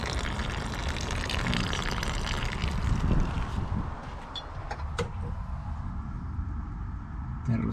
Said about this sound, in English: lots of water here.